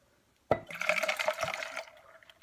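Bourbon poured from a bottle into a glass, a sudden gurgling splash settling into a steady liquid stream of glugs that tapers off after about a second and a half, close and clear.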